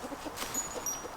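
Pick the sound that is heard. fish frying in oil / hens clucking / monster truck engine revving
hens clucking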